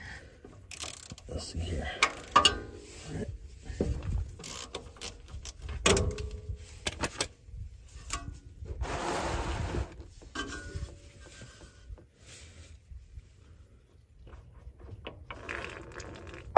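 A ratchet with a 14 mm Allen socket works an oil cooler bolt loose on a 2000 Ford Excursion 6.8L V-10, giving faint, irregular clicks and metallic handling noises close by, with a few quiet words spoken.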